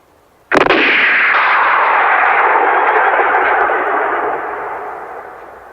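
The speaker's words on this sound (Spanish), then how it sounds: "Por un Winchester, el sonido es característico del Spaghetti Western, que es más que un disparo" A single Winchester rifle shot, a spaghetti western film effect, cracks out loudly, then rolls away in a long, echoing reverberation that fades slowly over several seconds.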